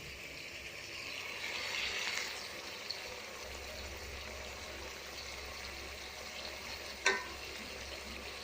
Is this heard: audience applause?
no